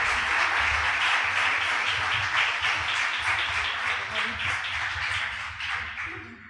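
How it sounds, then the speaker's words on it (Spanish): An audience welcoming a speaker to a workshop on forced migration breaks into steady applause, with dense clapping that fades slightly toward the end. "Un aplauso le damos para su venida."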